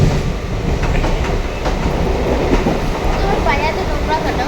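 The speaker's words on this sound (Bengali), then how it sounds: "গাড়ি খুবই স্পিডে চলছে।" A train runs fast on the line toward Rampurhat, heard from inside a carriage as a loud continuous rumble with rhythmic clickety-clack of wheels over rail joints.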